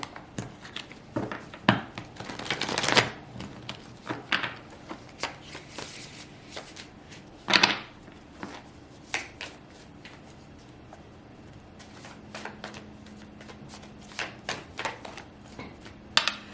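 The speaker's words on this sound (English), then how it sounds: "Let me just shuffle a little bit more" Tarot cards being shuffled in repeated riffling bursts, crisp and close, with short pauses between flurries and faint background hum.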